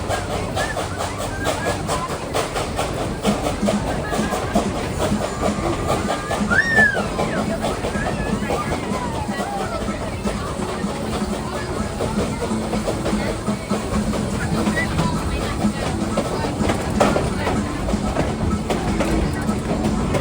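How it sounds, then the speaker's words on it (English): Tweetsie Railroad excursion train on the Fourth of July, a steady rumble and rolling clatter of the cars running continuously with faint hissing, while people talk nearby throughout the ride. "Alright, as you can tell, we're ready for a train ride."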